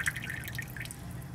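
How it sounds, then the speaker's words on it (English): A reverse osmosis faucet drips softly after the water flow stops, with faint, closely spaced droplets over a quiet background and no talk. "Alright, now it's just dripping."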